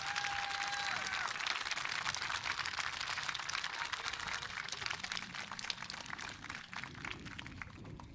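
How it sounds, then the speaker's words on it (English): A high school graduation audience applauds, a dense, continuous wash of clapping from a large crowd that holds steady throughout and eases slightly toward the end. "Now, graduates, give them a round of applause."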